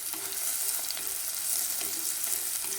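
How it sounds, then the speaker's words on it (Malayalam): Mustard seeds splutter in hot oil while making a Kerala sardine chilli curry (mathi mulakittathu): a steady, bright sizzle broken by scattered small pops, at moderate loudness with no talking. "കടുക് പൊട്ടിക്കുന്ന സമയം കൊണ്ട്"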